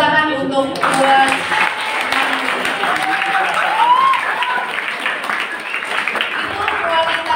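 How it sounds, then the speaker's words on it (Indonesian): A crowd of students and staff applauds at a junior high Islamic school's fast-breaking gathering, clapping for two students who just gave a short sermon; dense, steady clapping fills the whole stretch, with voices mixed in. "Ya, tepuk tangan untuk dua."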